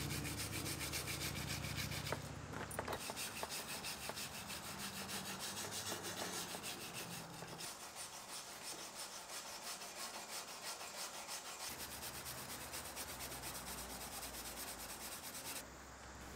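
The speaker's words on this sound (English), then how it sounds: "We use a wire brush to clean up some of the loose paint around the edges" A wire brush scrubs loose, heat-flaked paint from the welded edges of a steel dump trailer, giving a steady, close, continuous rasping scrape over background music with no talk.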